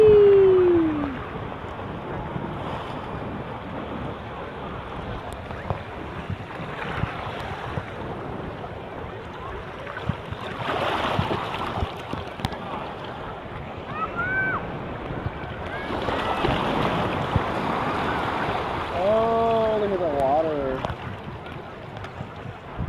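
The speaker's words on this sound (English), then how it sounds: "Here comes some more waves, baby." Ocean waves wash and splash against rocks along a windy shoreline, a steady surf roar with brief surges, heard close up with wind buffeting the microphone and a person talking over it at moments.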